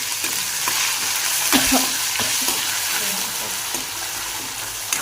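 Onion and a ground spice paste fry hard in hot oil for a Marathi tadka, with a loud continuous sizzle and repeated scraping stirs and clinks of the spoon against the pan.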